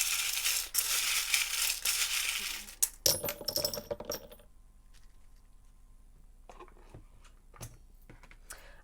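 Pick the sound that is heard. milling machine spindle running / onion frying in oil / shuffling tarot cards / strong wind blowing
shuffling tarot cards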